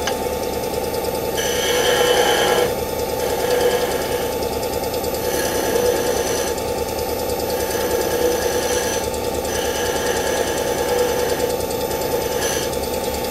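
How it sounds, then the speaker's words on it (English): Wood lathe spinning steadily as a skew chisel trims the top of a turned piece into a small dowel, a constant close mechanical hum with a rhythmic pulsing drone and faint intermittent scraping, no voices. "I'm gonna take that down a tiny, tiny bit more at the top with my skew, just so it'll fit inside easier."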